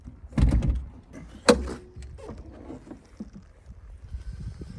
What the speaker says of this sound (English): Open the tailgate up.